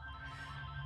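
A telephone rings faintly and steadily indoors with a sustained electronic tone, fairly quiet and alone.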